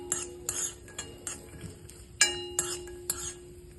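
Arkoch stirred as it fries in hot oil, a utensil clinking against the pan in a regular series of sharp metallic taps, about one every half second, over a quiet hiss.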